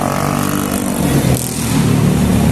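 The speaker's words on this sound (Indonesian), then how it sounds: "ini adalah di jalan ya. Banyak sekali suara yang bising" Steady, loud roar of busy street traffic in the Blok M area of Jakarta, with car and motorbike engines rumbling close by and no pauses.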